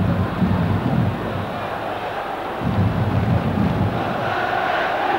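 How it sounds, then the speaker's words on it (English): Football stadium crowd in a 1991 Roma cup match roars steadily, a broad continuous wash of cheering and noise that dips briefly midway before swelling again. "The crowd doing all they can to encourage Roma to go forward."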